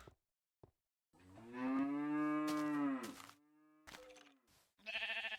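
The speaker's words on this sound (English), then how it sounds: "Oh my god, those cows are so annoying." Cows in an older version of a blocky sandbox video game, with one long, loud moo followed by a shorter moo, then a bleating call after brief pauses, heard close.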